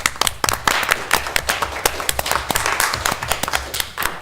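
Applause from a small group at a township committee meeting, a few pairs of hands clapping in quick, uneven bursts that hold steady throughout.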